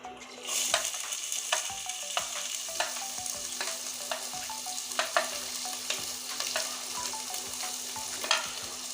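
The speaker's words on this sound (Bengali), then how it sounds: "আমি পেঁয়াজটা এখন লাল লাল করে ভেজে" Chopped onions fry in a pan with cumin, a steady soft sizzle broken by repeated scraping strokes of a stirring spatula.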